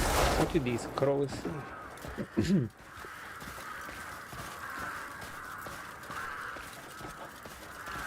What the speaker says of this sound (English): Look at these crows.